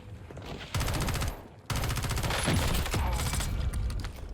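Dense automatic gunfire from the game Warzone 1, loud rapid bursts near and continuous, with a brief lull before firing resumes even harder.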